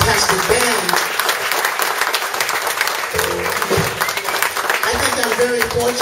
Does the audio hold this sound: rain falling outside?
no